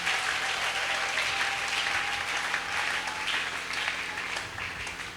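A church congregation applauds together in a steady, dense wash of clapping that holds for several seconds, loud and close, with no talk over it.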